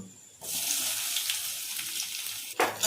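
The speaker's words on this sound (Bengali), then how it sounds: "তেল গরম হয়ে গেছে প্রথমে আমি রসুন দিয়ে দেব এখন আমি পেঁয়াজটা কেটে রেখেছিলাম দিয়ে দিলাম" Garlic and chopped onion drop into hot oil and burst into a loud, steady sizzle. A sharper crackle flares near the end, heard close in a home kitchen.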